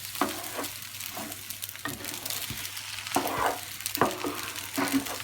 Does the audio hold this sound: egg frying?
yes